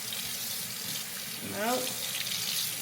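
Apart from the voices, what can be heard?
running hot water from a tap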